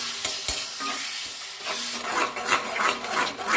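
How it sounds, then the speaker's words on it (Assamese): A spoon scraping and stirring mango chutney in a pan, with a steady sizzle underneath and a few knocks against the pan, growing busier and louder toward the end, with no talking. "আৰু লৰাই দিব।"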